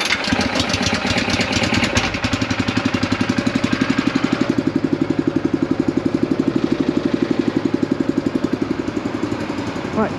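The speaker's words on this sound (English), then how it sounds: "I should just pull then, am I right? Do you reckon it'll need some choke? Yeah, it wants a little bit." A lawn mower engine is pull-started with a little choke: a rough cranking burst, then it catches and settles into a steady, loud, rhythmic chugging idle close by, with no talk over it.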